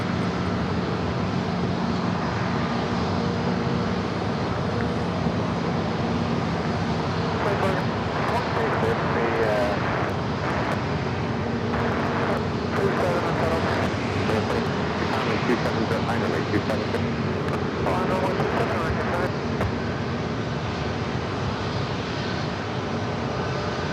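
An Air Canada Rouge airliner arrives at San Diego airport, its engines a loud, continuous roar with some fluttering across the middle stretch, while people talk over it.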